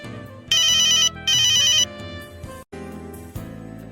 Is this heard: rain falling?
no